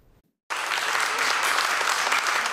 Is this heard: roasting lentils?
no